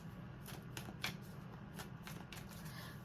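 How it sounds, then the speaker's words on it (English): Quiet riffling of tarot cards being shuffled, with several quick crisp flutters in a row, close and soft, no talking. "A couple more shuffles here."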